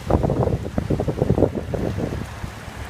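Strong gusty wind roars across the microphone on the seafront at Santa Ponsa, Mallorca, a steady buffeting rumble with rising and falling surges and no voices.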